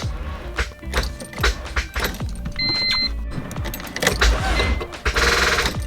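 A B-swap car fitted with a new distributor cranks over sluggishly on a nearly dead battery, giving repeated uneven churning bursts up close without catching.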